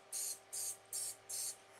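Four short bursts of cooking spray coated over a muffin tin, evenly spaced hisses with brief gaps, close and clear against a quiet background with a faint steady hum.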